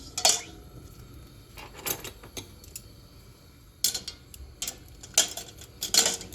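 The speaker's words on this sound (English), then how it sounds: "I'm going to go ahead and just stick my hardware in the pan" Sharp metallic clinks and clatters come in scattered bursts as small pieces of old hardware are dropped into a metal pan of water, close by with quiet gaps between.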